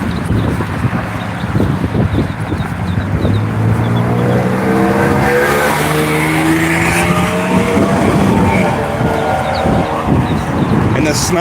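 A car passes in road traffic, a roaring engine and tyre noise rising and falling in pitch as it goes by close, over steady street ambience with a voice talking.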